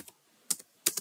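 Code being typed on a computer keyboard: a few quick, close key clicks in short clusters separated by brief pauses, in an otherwise quiet room.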